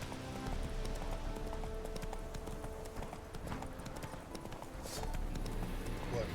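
Hooves of Roach, a horse in The Witcher 3, clip-clopping steadily at a trot over a continuous outdoor ambience with a light musical bed, no talk.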